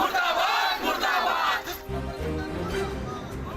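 Protest crowd of residents chanting slogans in unison in Jamshedpur, a loud rhythmic massed shout that swells and dips, with voices overlapping outdoors.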